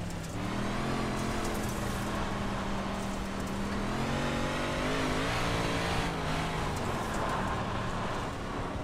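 A 358 modified dirt race car engine roars loudly and steadily on a dirt track, its pitch rising and falling through the lap as the throttle opens and eases, with no pauses.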